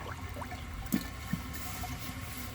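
Water gurgles and rushes steadily as a 1980 Crane Radcliffe toilet bowl drains after a flush, heard up close with a couple of brief glugs and no talking.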